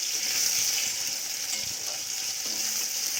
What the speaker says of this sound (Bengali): এবার এটাকে সাঁতলাবো আর কি তো এটা রান্না হচ্ছে